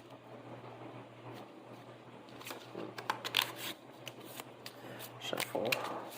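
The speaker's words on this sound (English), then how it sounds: "Shuffle the encounter deck." A deck of encounter cards for the Marvel Champions card game is shuffled on a table, faint riffling and soft snapping bursts repeating against a low steady hum, quiet and close.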